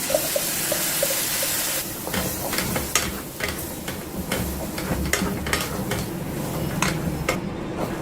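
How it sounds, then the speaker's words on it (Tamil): Ground lentil paste sizzles in oil in a pan, a steady close frying hiss broken by repeated soft scraping stirs, with no talk. "இந்த பருப்பு நம்ம அரைச்சோம் இல்லையா, இது நல்லா இதில் போட்டு வதக்கிட்டுருக்கோம்."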